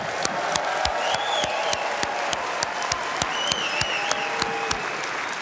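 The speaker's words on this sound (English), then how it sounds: "this cheer you're going to hear from this crowd is for you." A large crowd at the Indianapolis Motor Speedway cheers and applauds steadily during the Indianapolis 500 victory celebration, with scattered whistles rising above a dense wash of clapping.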